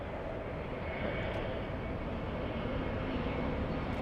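JetBlue Airbus A321 airliner at LAX, a faint, steady broadband jet engine rumble from a distance, continuous and unbroken for a few seconds with no voices.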